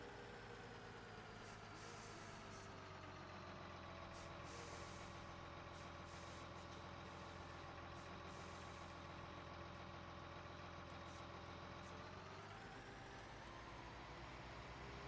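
A truck engine idles steadily and loudly in Farming Simulator 19, a continuous rumbling drone with a hiss of air brake release and a slight shift in tone near the end.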